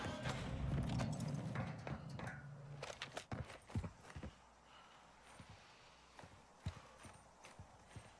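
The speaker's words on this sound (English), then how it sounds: "Thought I heard footsteps down to my right." Footsteps in the Warzone 2 video game: a run of sharp, hard-edged steps, close and fairly loud, following a burst of dense low rumbling noise, then fainter scattered steps trailing off.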